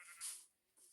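Sheep bleat inside a barn in a survival video game, two short, faint bleats about half a second apart.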